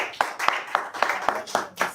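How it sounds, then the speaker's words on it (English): Clapping at a live creator event, with about eight sharp, evenly spaced claps over two seconds, close and fairly loud, more like a small group clapping in rhythm than a dense ovation. "Round of applause again"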